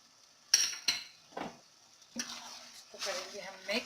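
Chicken macaroni tossed in a pan with cabbage, oyster sauce and Worcestershire sauce, giving a few clinks of a utensil on metal and light sizzling, with a voice talking over it.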